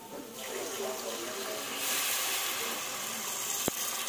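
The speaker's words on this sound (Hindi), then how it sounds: "इसमें हम पानी ऐड कर देंगे" Water poured into a bowl of chicken curry, a steady close splashing hiss that swells midway and runs for a few seconds.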